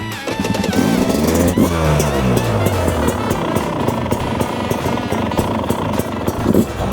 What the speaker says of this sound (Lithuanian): motociklą susirinkom, dabar beliko jį pabandyti užkurti